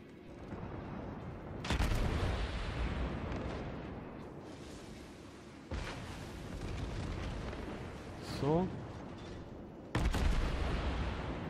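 Battleship New Mexico firing in World of Warships: three loud booming gun salvos spaced several seconds apart over a continuous low rumble of naval combat, no talk.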